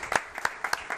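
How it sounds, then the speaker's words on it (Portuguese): Audience in a broadcast studio clapping, a sparse, rhythmic run of distinct handclaps at a moderate distance, about five or six claps in a second. "Um aplauso para ele"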